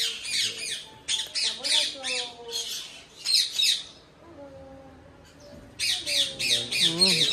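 Violet ringneck parrot squawking in loud, harsh bursts, repeated in clustered runs with a short quieter pause midway, close to the listener; faint background voices murmur underneath at times.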